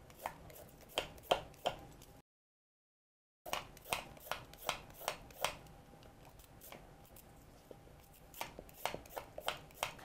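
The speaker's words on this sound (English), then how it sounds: "We'll peel them and then we'll cut them into silver dollar rounds." A knife chops peeled sweet potatoes into rounds on a cutting board, giving a steady series of crisp, close, evenly spaced cuts with one brief silent gap.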